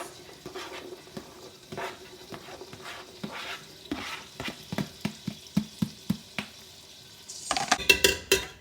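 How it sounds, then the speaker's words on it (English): Diced carrots and celery cooking in a soup pot, with a series of soft stirring scrapes and light sizzle that grow more regular, ending in a louder burst of clattering and hissing. "So we're just going to saute these, let the vegetables sweat out a little bit"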